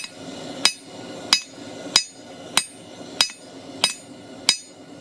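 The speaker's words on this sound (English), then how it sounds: "We're going to hold it on the edge of the anvil and basically start" Hammer blows on a metal leaf held at the edge of an anvil, eight sharp ringing strikes at a steady, even pace, close and loud with no talking.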